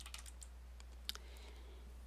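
Typing on a computer keyboard with a sticking C key, heard as sparse, faint clicks over a steady low hum, with one sharper keystroke near the middle.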